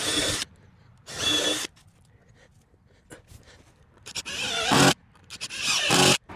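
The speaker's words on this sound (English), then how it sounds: "I'm going to drill my holes here and here, but on this wood." A power drill bores holes into wood in a raised garden bed, with several loud whining bursts, two short ones early and longer grinding runs later, separated by quieter gaps with small clicks and rubbing.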